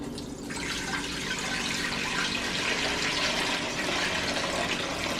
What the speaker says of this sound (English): We're going to add some cold water to the pot.